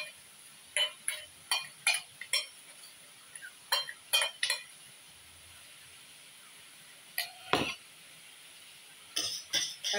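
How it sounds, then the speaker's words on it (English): Utensil scraping and clinking in a pan while spaghetti carbonara is stirred, a series of short, bright metallic taps and scrapes in irregular bursts with quiet pauses between, close by. "And start to stir it."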